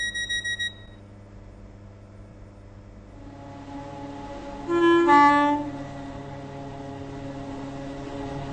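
A passenger train in the Roblox rail game SCR, a waterline service bound for Esterfield, runs with a steady synthetic engine drone after a brief chime, a loud tonal horn-like blast sounding midway before the hum continues.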